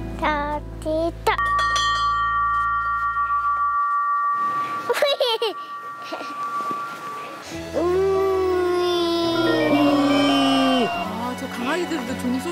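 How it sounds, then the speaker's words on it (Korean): A hand bell is rung at mealtime for dogs, bright ringing tones followed by dogs howling and yelping, with people talking throughout. "강아지들도 종소리가 밥 먹는 시간인지 아나 봐요."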